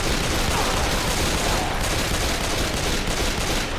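Dense, continuous gunfire from the zombie shooter game Left 4 Dead 2, a loud unbroken fusillade of rapid shots filling the whole stretch.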